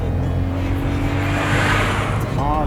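A 2020 Volkswagen Polo 1.0 TSI turbo petrol with a six-speed gearbox accelerates hard from a standstill, its engine note climbing steadily over road and tyre noise, recorded from inside with some talk.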